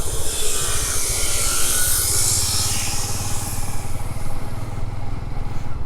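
A Runner Bullet 100 motorcycle rides along with a steady, droning engine and broadband wind roar, loud and continuous throughout with no talk.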